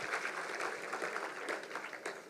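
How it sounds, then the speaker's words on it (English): A crowd at an annual day celebration gives a round of applause for the foundation's founder, a steady wash of many hands clapping at moderate volume, with no speech over it. "Can we please have a round of applause for him?"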